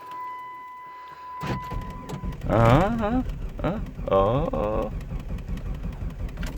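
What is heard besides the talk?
car engine cranking while jump-starting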